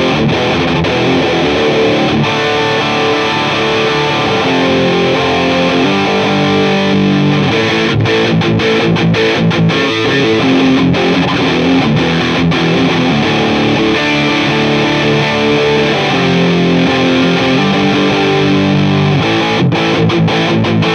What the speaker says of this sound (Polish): teraz przester z Bandita, trochę tańszy, trochę bardziej tranzystorowy i taki twardszy